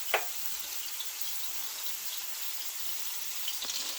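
Beyond Sausage plant-based sausages fry in a pan with a steady, even sizzling hiss, marked by a faint tap near the start and another near the end.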